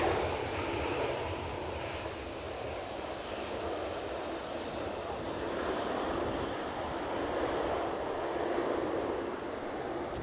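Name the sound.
airplane landing at Edinburgh Airport in a storm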